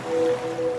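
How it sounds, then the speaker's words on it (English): Ocean waves wash in a steady, close surf wash with a faint tonal hum, used as a sound effect in a radio advert for a scented product. "now you're drifting asleep to the scent and sound of waves."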